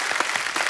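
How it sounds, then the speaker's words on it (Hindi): Studio audience applause on a Hindi comedy talk show welcoming guests, a short burst of dense clapping at moderate level. "तालियां और जोर से होनी चाहिए जरा"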